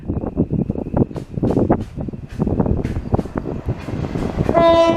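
A train runs through Brimsdown station without stopping, a loud, close rumble and clatter of wheels rolling past, with a tonal two-tone horn sounding near the end.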